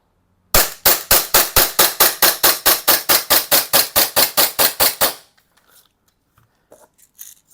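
An Umarex Glock gas blowback pistol fires a rapid, evenly spaced string of about twenty sharp, loud shots, then falls quiet with faint handling clicks.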